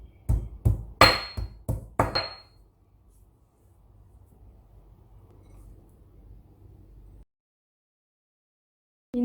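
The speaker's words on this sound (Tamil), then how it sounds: "மிளகு, இஞ்சியும் அதே மாதிரி நச்சுட்டு சேர்க்கலாம்." Black pepper and ginger are crushed with about six sharp, loud pounding strikes in the first two seconds, followed by a faint low rumble and then near silence.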